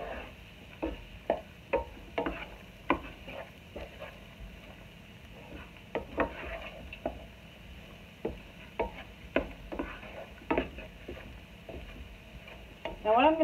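Onions sizzle gently in a skillet as a spoon scrapes and stirs them in repeated bursts, with cauliflower being mixed in; steady low frying hiss throughout, no voices.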